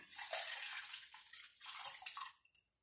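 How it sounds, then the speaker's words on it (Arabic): Orange juice poured into a casserole dish, a continuous bright splashing stream that thins briefly midway, then surges again before stopping abruptly. "غادي نديروا عصير التشين حتى هو في الكاسرونه"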